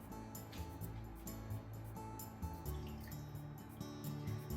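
Drained udon noodles drip in a strainer, soft wet trickles and drips close by over a low humming kitchen background, quiet and continuous.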